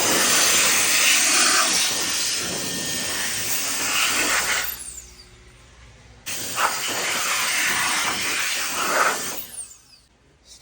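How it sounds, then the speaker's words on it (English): Compressed-air blower tool blasting out an aluminum valve cover during spark plug tube seal work, loud broad rushing hiss in two long bursts separated by a brief drop, no talking. "Little blowout with my blower tool."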